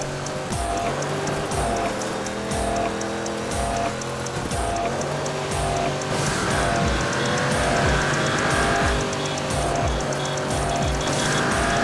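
Race car engines in the game Dirt Showdown roar loud and close, revving and shifting with sharp recurring bursts and some tire noise, a continuous dense engine din throughout.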